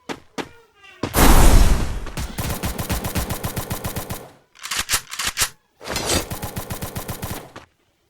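Launcher fired in the game Free Fire, heard as a heavy burst followed by rapid repeated shots and explosive bursts in separated volleys, loud and close, with brief gaps of near silence.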